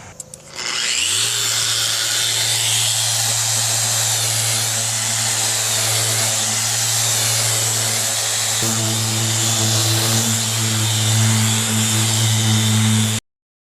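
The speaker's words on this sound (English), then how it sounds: "I'm going to sand the edge here where it's going to sit" A power sander runs continuously on the wooden toe rail edge of a sailboat under restoration, a steady close whine with a droning hum that shifts slightly in pitch partway through, then stops abruptly.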